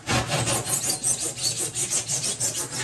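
Rapid rasping strokes of a tool trimming corners off a Styrofoam block being shaped into fake rock, a steady back-and-forth scraping rhythm, close and fairly loud with no talking.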